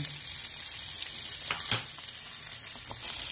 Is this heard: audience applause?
no